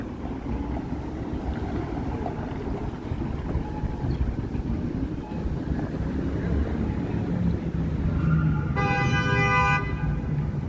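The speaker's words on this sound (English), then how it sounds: "we had our first honk" A single sustained car horn honk sounds from nearby over steady downtown Calgary street traffic and wind rumble near the end of the clip.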